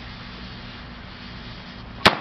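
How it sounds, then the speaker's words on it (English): A single sharp pop-like firework burst cracks out near the end after a stretch of steady low background noise, at a birthday celebration. "We've got a fireworks for Corey's birthday."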